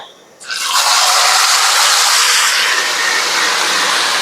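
Marinated beef drops into hot oil left from frying onions for beef biryani, bursting into a loud, sudden sizzle that keeps hissing steadily and close up, with no one talking.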